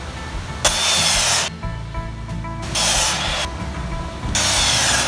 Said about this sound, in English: We're going to be cutting them down into 2 5-foot long pieces and 3 31-inch long pieces.